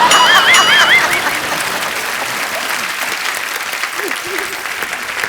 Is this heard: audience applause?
yes